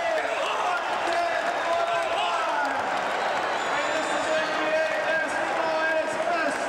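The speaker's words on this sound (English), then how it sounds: "We'll listen to the crowd." Basketball arena crowd during a timeout in a Boston Celtics vs Atlanta Hawks game: a steady, dense roar of many voices, cheering and noise that holds at an even level throughout without pause.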